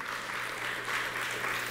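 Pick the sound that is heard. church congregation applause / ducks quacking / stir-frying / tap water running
church congregation applause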